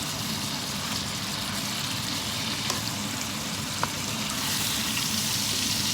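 Steak frying in a hot pan gives a dense, constant sizzle and crackle at close range, with a couple of brief sharp pops partway through and no talking.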